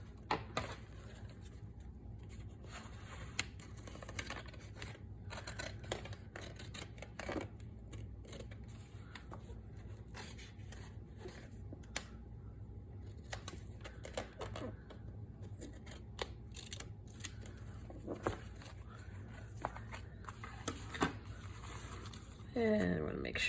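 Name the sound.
scissors trimming a file folder tab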